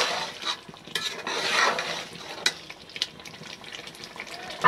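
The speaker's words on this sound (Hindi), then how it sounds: "पहले शलजम डाल के 2 मिनट तक इसको भूनेंगे" Turnips and mutton being stirred and fried in a pot, with a spoon clattering and scraping against the metal in irregular bursts over a faint sizzle.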